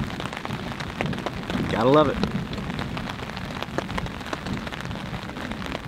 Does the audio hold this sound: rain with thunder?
yes